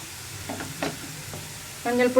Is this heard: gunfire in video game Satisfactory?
no